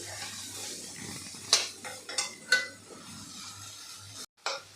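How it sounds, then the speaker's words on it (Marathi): Garlic and coconut paste being sautéed in a pan for a bitter gourd dish, a quiet sizzle broken by several sharp spatula scrapes and clinks against the pan, then a brief silence and one more clatter. "लसूण खोबऱ्याचं वाटणसुद्धा परतवून झालेलं आहे"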